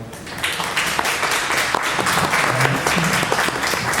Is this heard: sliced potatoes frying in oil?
no